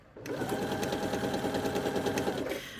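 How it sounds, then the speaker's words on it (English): Britannia T190 sewing machine stitching fabric, a steady rapid mechanical whirring with fast regular needle clatter, close and continuous for a couple of seconds before stopping. "you're going to pop your fabric in underneath the presser foot and you can start sewing"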